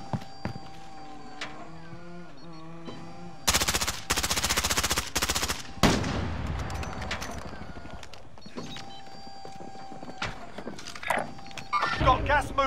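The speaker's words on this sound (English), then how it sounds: "Friendly sentry gun online." A sentry gun in Call of Duty: Modern Warfare fires a loud, rapid burst of automatic shots for about two seconds, followed by a crash and scattered game sounds.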